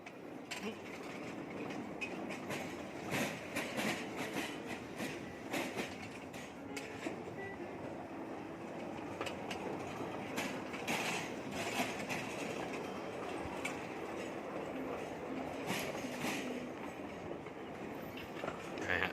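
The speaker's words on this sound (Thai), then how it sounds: "นั่งรถไฟจิ๋ว" Steady rumble of a small train in motion, with rattling wheels and occasional clicks over the track, continuous throughout.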